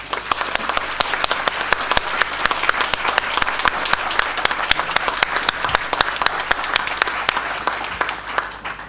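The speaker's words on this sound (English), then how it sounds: "Let's give them a round of applause." Attendees at a bar association's annual meeting give a full round of applause, with many distinct hand claps over a steady crowd wash and a faint low hum beneath.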